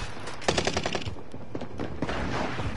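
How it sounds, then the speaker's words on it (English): A flashbang grenade goes off in an online shooter game, a sharp burst followed by a quick string of loud crackling pops and scattered gunfire-like bangs over about two seconds. "And I threw a flashbang"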